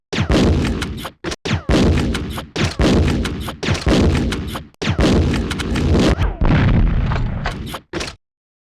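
A grenade launcher firing flame rounds in the video game Resident Evil Survivor, a rapid string of loud, booming heavy shots with brief gaps between them, about eight or nine blasts in quick succession.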